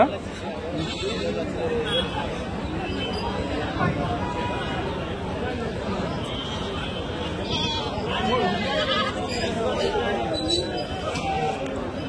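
Goats bleat repeatedly amid a crowded, noisy weekly sheep and goat market in Kadiri, their calls mixed with overlapping people talking nearby.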